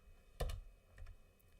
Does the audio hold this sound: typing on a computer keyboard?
yes